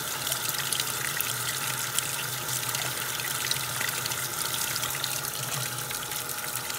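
Water pouring steadily into the tub of a washing machine as it fills, a loud continuous rushing gush with no breaks and nobody speaking.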